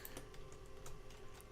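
Quiet computer keyboard typing at a game-development desk: scattered soft key clicks at an irregular rhythm, close and faint over a steady low electrical hum.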